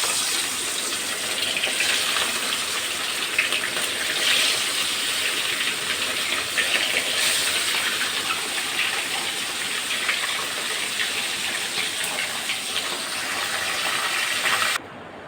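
Large pieces of fish and potato sizzle in hot oil in a pan with a steady, dense crackling hiss that holds loud and even, then cuts off abruptly near the end.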